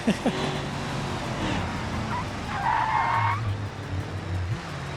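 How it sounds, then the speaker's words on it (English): Tires skid and squeal as a car in the driving game BeamNG drifts while pulling a trailer, a steady tonal screech over continuous engine rumble lasting throughout, fairly loud and close. "Drifting the trailer."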